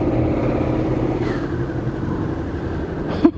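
A large automatic scooter pulling away, its engine a steady low mid-pitched hum that rises slightly, ending with a short knock, no voices.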